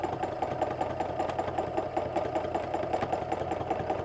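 A sewing machine runs at a steady, even pace during free motion quilting with a loopy meander stencil, its close mechanical whir holding continuous and unbroken throughout with no voices.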